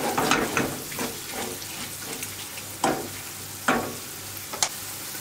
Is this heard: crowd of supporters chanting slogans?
no